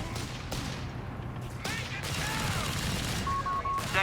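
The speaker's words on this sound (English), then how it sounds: "all 4 of their Thompson submachine guns firing" Thompson submachine guns rattle in a Company of Heroes 3 battle, four weapons firing in dense overlapping bursts at mid distance, beneath steady game ambience and a voice talking over the action.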